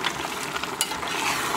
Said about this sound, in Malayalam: നന്നായിട്ട് അത് തിളച്ചിട്ടുണ്ട്.